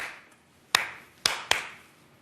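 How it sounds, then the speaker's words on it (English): Claps in a quick pair followed by a lone clap, sharp and close, three hand claps in a double-then-single rhythm with no talking. "It's when people do the double clap and then the single clap."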